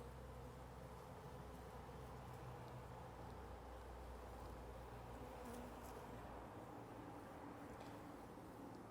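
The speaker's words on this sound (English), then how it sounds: "These are all winter bees." A dense, steady hum of many honeybees buzzing up close in an opened hive during a November inspection, continuous and unbroken throughout.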